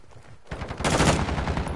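Rapid machine-gun fire from a PS4 shooter game erupts after a brief quieter lead-in, then keeps going as a loud, dense stream of shots.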